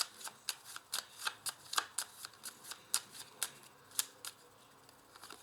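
Tarot cards handled at close range, with a quiet series of crisp flicks and snaps at a steady rhythm as cards are shuffled and laid down, soft and without talk.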